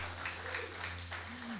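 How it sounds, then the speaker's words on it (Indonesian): Faint congregation applause at a church service, a soft, dense patter of clapping lasting under two seconds, with a brief voice-like tone near the end. "Berarti tepuk tangan buat Tuhan."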